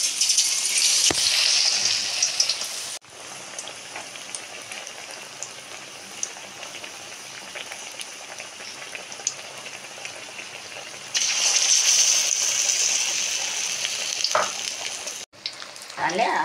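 Stuffed ash gourd slices, Bengali style, fry slowly in hot oil with a continuous dense sizzle, surging louder at the start and again near the end as pieces are moved, with occasional clatters.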